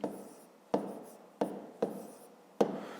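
A pen scratches out numbers by hand in a short, close sequence of strokes, with five distinct taps or pen-lifts spaced through it and a soft continuous scratch between them.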